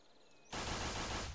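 An infector weapon in the video game Defiance opens fire after a quiet moment, a sudden dense burst of rapid gunfire that runs on loud and close to the end.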